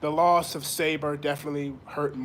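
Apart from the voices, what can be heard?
No everyday noise stands out behind the speech.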